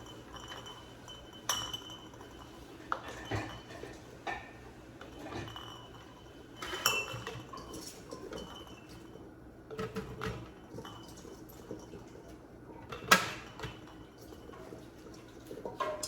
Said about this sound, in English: Make sure you stir your brine so that way all the maple syrup and everything's not just stuck on the bottom and not cooking.